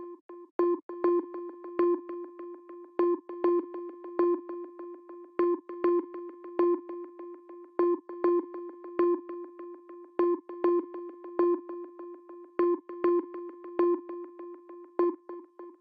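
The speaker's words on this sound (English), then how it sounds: "And now we have a Valhalla Echo plugin." Valhalla Echo, a free plugin, puts a rhythmic echo on a synth line in FL Studio. Repeating tonal notes sound steadily, each trailing off in decaying repeats across a loud, even loop with no voices.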